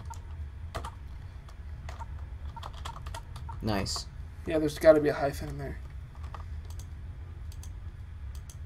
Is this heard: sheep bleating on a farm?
no